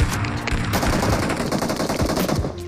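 Automatic and rapid gunfire from a multiplayer shooter video game match, a dense, loud, sustained burst of overlapping shots lasting throughout with no pauses.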